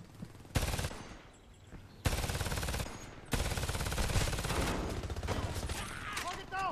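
Bursts of rapid automatic gunfire in Homefront multiplayer, loud and close, with several sustained volleys separated by brief pauses.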